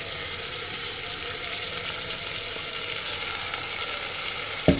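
Green peas and beans frying in oil with freshly ground masala, a steady dense sizzle that runs continuously, close and even, ending with a brief clink of a utensil.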